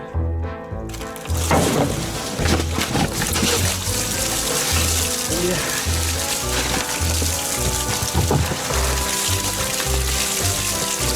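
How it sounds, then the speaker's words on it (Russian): Fuel poured into a Hanomag loader under restoration, a continuous close gurgle and trickle of liquid with a regular low pulsing hum beneath, loud and steady throughout. "в этот раз мы заливаем топливо"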